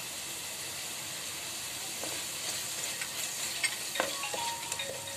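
Masala paste for a Malvani crab curry fries on low to medium heat, giving a soft steady sizzle with a few light stirring scrapes and clinks near the end, fairly quiet and close.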